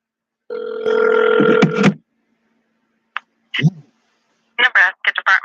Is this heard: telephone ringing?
yes